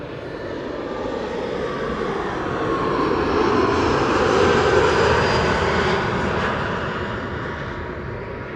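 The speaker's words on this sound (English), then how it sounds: "KLM Flight 1068 arriving from Southampton. That's an Embraer 175." A KLM Embraer 175 arriving at Amsterdam Schiphol airport passes with a steady engine roar that swells to a peak at mid-pass and then gradually eases, heard alone at moderate distance.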